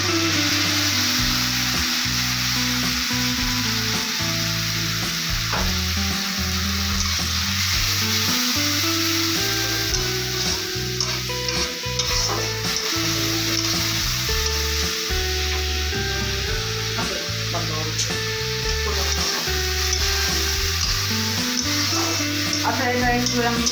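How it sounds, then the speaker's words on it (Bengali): A fish head fries in a pan with a ginger and green chili paste, giving a loud, constant sizzle and crackle throughout, with stirring scrapes and faint background noise. "এখানে মোটামুটি ভেজে নিয়েছি মাছের মাথাটা দিয়ে দিচ্ছি"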